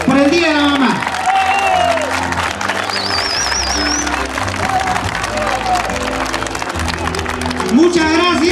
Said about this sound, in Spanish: quiero que me acompañe con un fuerte aplauso por el Día de la Mamá